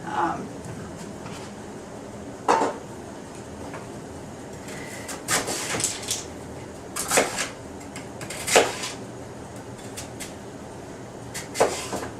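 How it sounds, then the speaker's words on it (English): A chunk of sweet potato rubbed on a box grater, a series of rasping, scraping strokes at an irregular pace, fairly close, with quieter gaps between strokes. "If you were going to use the box grater, I would just take this chunk, cut it in half so it's a little bit more manageable, and just start to grate."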